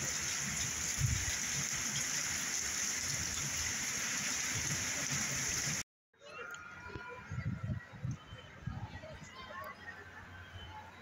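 Steady hard patter of hail drumming on a surface in Mexico, cutting off abruptly midway, then resuming more unevenly with scattered impacts and some voices.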